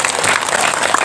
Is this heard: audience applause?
yes